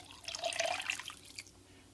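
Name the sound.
water being poured into a stew pot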